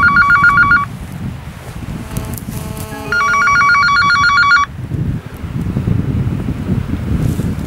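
Mobile phone ringing with an incoming call outdoors in a valley, two bursts of a bright repeating electronic ringtone over steady wind noise on the microphone.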